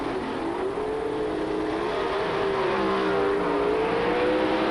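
Pro Stock drag racing cars at the Southern Nationals in 1988 qualifying, a loud sustained engine roar with a rising, wavering pitch as the cars accelerate down the strip.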